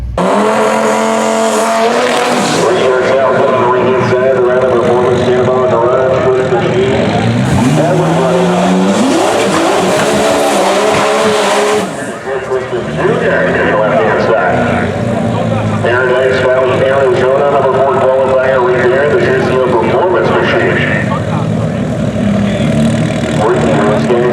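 Quarter-mile drag race between an Audi RS3 and a turbo Lamborghini Huracán, loud engines revving and roaring past with shifting pitch, mixed with crowd noise and people talking over the racing.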